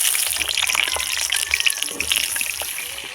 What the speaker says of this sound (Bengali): তেলটা গরম হয়ে গেছে, দিয়ে দিচ্ছি পটল তেলের মধ্যে।